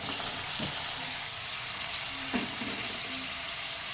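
Onions frying in a pan: a continuous, even, fairly loud sizzle held throughout, with two brief scraping stirs of a utensil against the pan.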